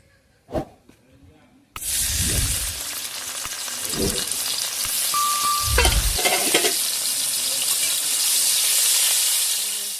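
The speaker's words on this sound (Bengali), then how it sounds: "প্রথমে আমি তেল দিয়ে দেবো চিংড়ি মাছটা ভেজে নেব" Prawns drop into hot oil and break into a loud, sustained sizzle, with a few thumps and clinks first and occasional stirring bumps as the frying continues.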